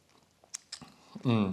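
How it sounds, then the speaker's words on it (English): Cacao fruit seeds being bitten and chewed up close, a few crisp crunches and wet mouth sounds, followed at the end by a brief voiced sound. "it's very bitter, chewing the seed"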